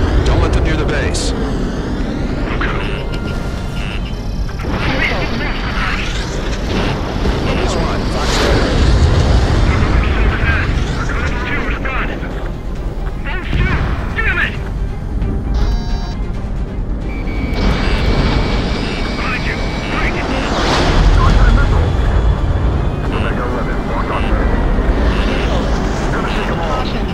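Fighter jets and missiles in the video game Ace Combat 7 roar and whoosh with rumbling blasts and surging engine swells, loud and dense throughout, with radio voices talking over the action.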